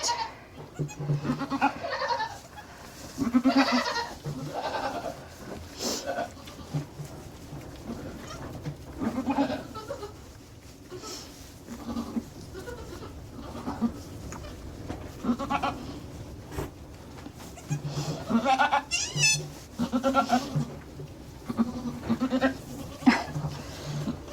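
Newborn Nigerian goat kids bleat in repeated short, high cries at close range, mixed with quieter rustling and occasional human voices during a farm delivery.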